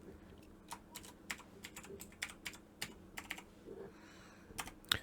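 A password is typed on a computer keyboard: a quiet run of separate, irregular key clicks, close by and with no talk over them.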